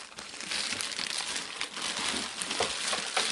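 Plastic packaging crinkles and crumples up close as a 75 watt strobe light is unpacked, with a steady rustle and no talk.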